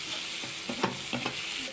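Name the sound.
garlic paste frying in a pan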